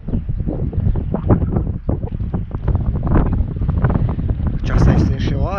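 Mountain wind in the Maramureș mountains of Romania blows as a loud, steady rush and buffets the microphone throughout, with continuous gusting noise and no talk.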